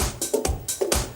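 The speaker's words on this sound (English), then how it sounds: "This is the drums." The drum layer of a dance track plays alone: loud, punchy kick and snare hits alternating in a quick steady pattern, with crisp hi-hat wash on top and no voices.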